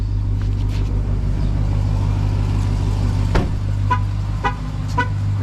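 A 2022 Ram TRX pickup idles with a steady low engine rumble throughout, with several short, faint chirps over it near the end.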